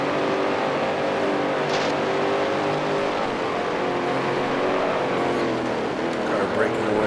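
1971 Can Am race car engines at Atlanta in Grand Prix Legends, a steady loud roaring drone with shifting revs, a voice talking over it.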